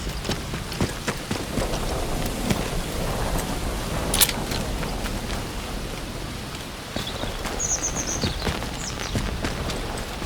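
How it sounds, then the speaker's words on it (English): Steady rain in the video game Midsummer Isle patters on a surface in a constant hiss, with a few sharper drips and taps scattered throughout. "Sound of the rain on the material."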